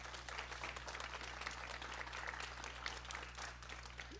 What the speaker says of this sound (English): I'll let her know that you all give her a huge round of applause.